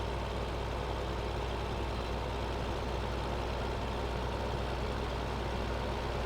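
A Lamborghini tractor in Farming Simulator 15, struggling under its load, drones with a steady low engine rumble that holds evenly throughout with no talking.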